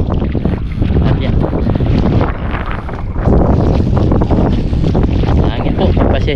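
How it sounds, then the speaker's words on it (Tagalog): Loud, steady wind buffeting the microphone, a continuous rumbling roar that fills the whole clip with no break. "Hangin po. Pasensya nyo na."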